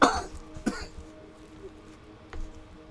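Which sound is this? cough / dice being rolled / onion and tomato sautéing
cough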